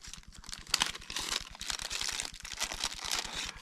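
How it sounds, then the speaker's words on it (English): A plastic bag crinkling and rustling continuously close by, fairly quiet, with a steady low hum underneath, handled while unpacking a fisheye lens. "Plastic bag."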